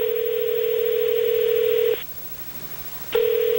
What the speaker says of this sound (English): Let's call Bird and Carl.